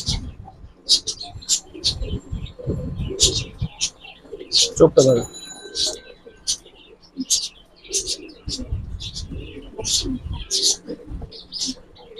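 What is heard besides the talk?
Giribaz pigeons cooing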